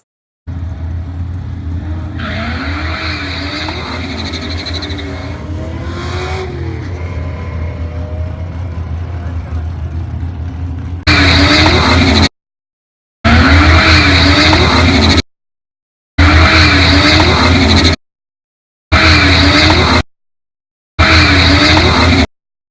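A Whipple-supercharged 2003 Ford Cobra on drag radials launches hard, with loud engine roar and chattering wheel hop wavering in pitch, followed by a series of abrupt repeated loud bursts broken by silent gaps.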